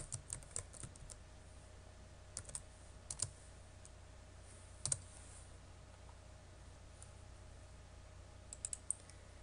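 Sparse keystrokes on a computer keyboard while code is entered into Python IDLE, with short clusters of light clicks separated by pauses and set against a faint, steady room hum.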